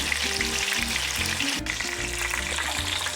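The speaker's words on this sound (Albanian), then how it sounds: "Pulën e kemi skuqur nga një anë fileto." Chicken fillet sizzling steadily in a pan over medium heat, a dense continuous frying hiss with faint stirring or utensil scrapes, close and alone without any talk.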